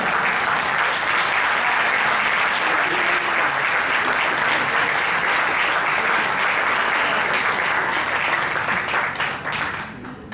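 Steady, dense applause from a live audience at a storytelling and talk show, continuous for about ten seconds before tapering off at the end.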